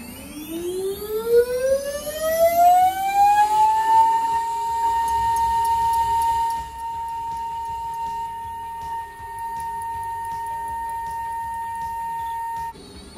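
A Banglemaster jewelry CNC machine spins up and settles into a steady high whine while cutting an octagon cut-out bangle, the pitch rising over the first few seconds then holding constant with faint ticking underneath.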